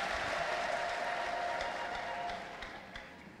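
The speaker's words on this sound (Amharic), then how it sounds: "አጨብጭቡና" A church congregation applauds together in a steady, dense wash of clapping that holds and then gradually thins and fades toward the end.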